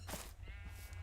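A Minecraft sheep lets out a single short, wavering bleat, faint against a low steady hum, with no talking.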